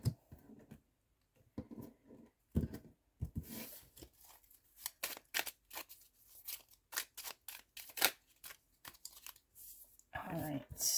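A deck of oracle cards shuffled by hand, a run of quick papery riffles and snaps, fairly close and moderately loud, in irregular bursts with short pauses.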